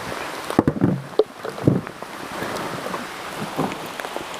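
Rain beats down around a Honda Goldwing motorcycle on the Blue Ridge Parkway, a soft wet hiss broken by several louder close thumps and splashes early on, then settling into a quieter patter.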